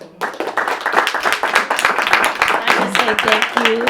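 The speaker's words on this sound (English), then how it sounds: "let's all give her a warm, applause for her beautiful interview" Audience clapping warmly after an interview, a dense, steady patter of many hands lasting several seconds with voices mixed in.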